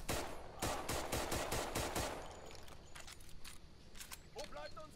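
Rapid machine-gun bursts rattle in a dense volley during a Raid World War II firefight, then thin into scattered single shots under ongoing battle noise and faint voices.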